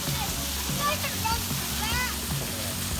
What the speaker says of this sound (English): could not wait to run through the fountains